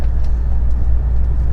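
HGV low loader truck pulling away with its wheels spinning, a loud, close, heavy low rumble of engine and tyres that stays steady and powerful throughout the short stretch, with no voices.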